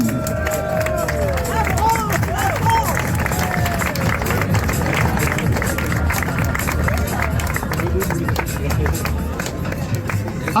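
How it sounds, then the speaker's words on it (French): A crowd at a Granfondo cycling podium ceremony in the Vosges claps and cheers for a second-place finisher, a dense, steady wash of applause with background chatter throughout. "Applaudissements pour Clotilde"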